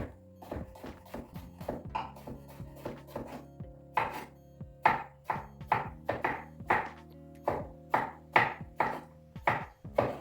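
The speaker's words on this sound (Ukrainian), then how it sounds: "І ось так нарізаю соломкою." A knife chops rapidly and rhythmically on a cutting board, cutting cucumber into julienne strips, many quick close strokes in uneven bursts, with no talking.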